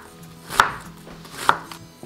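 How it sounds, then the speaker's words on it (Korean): A knife chops through an onion on a board for vegetable tteokbokki: two distinct, close thuds about a second apart over near silence. "이 양파를 이렇게 좋게 썰어 놓습니다."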